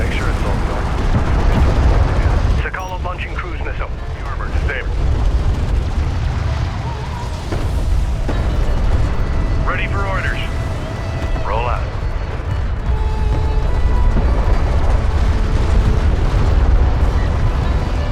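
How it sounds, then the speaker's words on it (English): Cruise missile launch and explosions in the strategy game Homeworld: Deserts of Kharak, a constant roar of booms and blasts with scattered bursts, under spoken radio-style chatter. "launching cruise missile"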